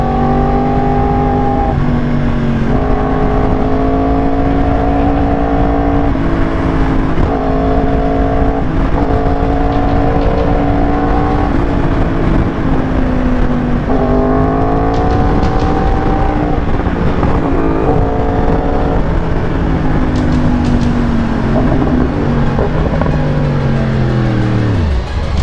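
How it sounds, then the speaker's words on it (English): A Ferrari 812 Superfast engine revs loudly and continuously, its pitch rising and falling through repeated throttle sweeps, heard close with no talking. "It's an 812 super fast."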